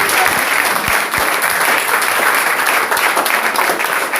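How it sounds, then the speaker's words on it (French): Congregation in a church clapping steadily and loudly, a dense continuous wash of many hands without pause. "Applaudissez pour moi."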